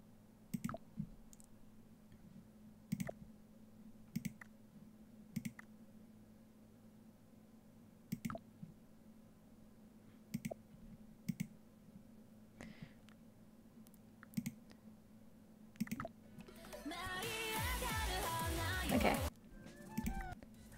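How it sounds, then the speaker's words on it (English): Sharp computer keyboard clicks land singly and in small bursts over a quiet room, then a dense flurry of rapid typing and clatter builds near the end, close and fairly loud. "I'm sorry for the atrocities that will be my keyboard sounds."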